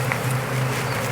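Honey bees newly installed in a beginner's hive give off a close, steady buzzing drone, brief and unbroken, with no voices.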